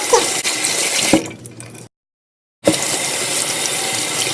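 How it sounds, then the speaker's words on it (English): Tap water runs steadily while soap is rinsed from makeup brushes at a sink, breaking off briefly into silence before the flow resumes, close and fairly loud. "You are rinsing off the soap lots of times."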